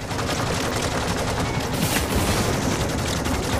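Cannon turrets firing in the Firefall video game, a dense, continuous barrage of loud gunfire-like shots and blasts with no pauses, in the thick of combat.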